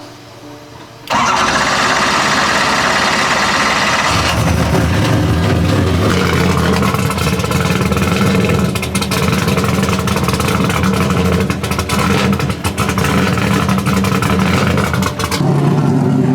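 A loud race car engine cranks and fires up, then settles into a rough, throaty idle that holds steady for several seconds.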